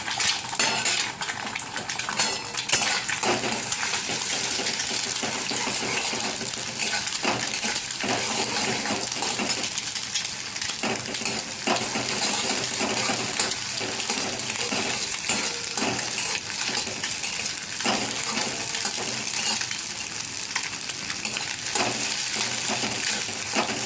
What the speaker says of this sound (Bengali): গুঁড়ো গুঁড়ো করে ডিমটা ভেজে নেব।